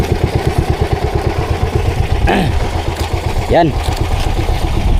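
A service boat's engine runs at sea, a loud, close, rhythmic chugging thump that stays steady throughout, while a voice speaks briefly over it.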